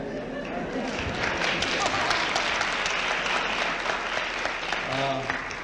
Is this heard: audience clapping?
yes